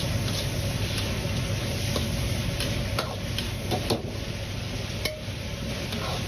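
King oyster mushrooms are stir-fried in a wok over medium-low heat, giving a steady close sizzle with scattered sharp clicks and taps of the spatula against the pan.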